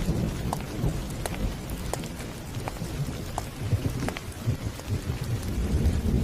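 Steady drizzle of rain falling on a village at night, a dense continuous patter with scattered louder drops close by, alone without voices.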